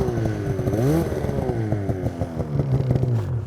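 A stuck snowmobile's engine revs hard under throttle to free snow packed around its track. The whine rises and falls in repeated bursts, loud and close, with clattering from the track.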